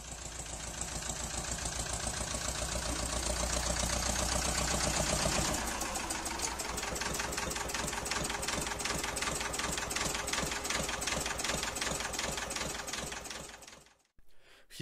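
A 60-year-old Ursus C325 vintage tractor engine runs close by, a loud steady rhythmic chugging that shifts pitch partway through before cutting off near the end, with no talking.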